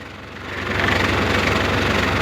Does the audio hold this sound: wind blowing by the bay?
no